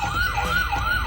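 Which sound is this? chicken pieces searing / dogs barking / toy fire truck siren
toy fire truck siren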